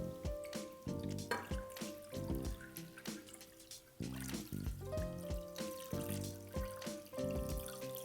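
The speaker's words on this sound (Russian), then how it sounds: "Заливаем рыбу холодным рассолом." Cold brine is poured over fish, a continuous splashing trickle of liquid with uneven surges, close and fairly quiet.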